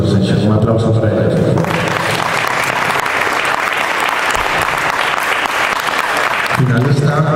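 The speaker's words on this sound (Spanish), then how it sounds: "Un aplauso para ellos." Audience applause at a girls' singles tennis awards ceremony, a steady loud wash of clapping lasting several seconds, with a voice speaking over the start and end.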